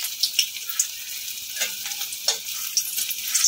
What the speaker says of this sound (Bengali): তেলটা গরম হয়ে গেলে আমি এগুলোকে লাল লাল করে ভেজে নেব